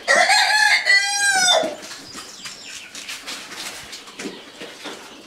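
Rooster crowing loudly at close range, followed by hens and fowl clucking, rustling and flapping on a rural farm, the crow's long call giving way to scattered busy chatter.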